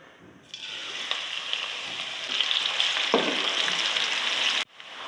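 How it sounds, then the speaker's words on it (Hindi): Onions sizzle and fry in hot oil for chicken nihari, a steady close crackling hiss that swells as they are stirred, with a brief scrape partway through. "और डालूँगी प्याज गर्म तेल में।"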